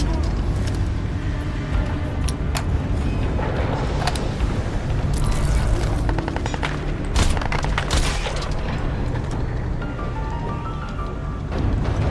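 Frag grenade explosions in Crysis 3 Remastered crash and rumble loudly over dense battle noise, with sharp bursts and crackling debris breaking through a continuous low roar.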